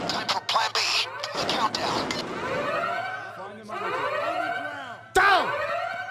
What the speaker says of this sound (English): That's the alarm.